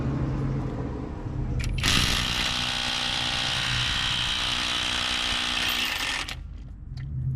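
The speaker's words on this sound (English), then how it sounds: "the impact wrench broke loose 120 foot-pounds like a piece of cake" A Bauer 20V brushless compact impact wrench hammers at a lug nut in one continuous burst of about four seconds, loud and close, with quieter background noise before and after.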